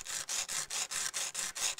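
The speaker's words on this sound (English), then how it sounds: "Rub it on the sandpaper till it's nice and clean all the way around" Metal switch post from a mechanical switch rubbed back and forth on sandpaper to clean off corrosion, about nine quick rhythmic scraping strokes, close and fairly faint.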